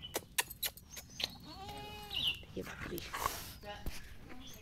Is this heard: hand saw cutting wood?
no